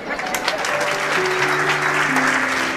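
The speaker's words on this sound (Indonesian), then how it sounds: "Ibu-ibu nggak usah tepuk tangan, itu suami aja" A church congregation bursts into loud, dense applause at a worship service, with faint voices and tonal notes mixed in beneath the clapping.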